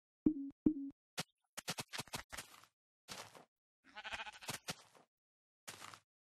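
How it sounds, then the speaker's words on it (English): A sheep in the Minecraft video game bleats twice in quick succession at the start, followed by a series of short clicks and taps from gameplay. "Ah, dirty sheep."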